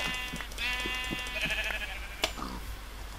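Sheep bleat in a Minecraft-style video game, a drawn-out wavering cry followed by shorter bleats with a sharp click partway through, over steady game background noise.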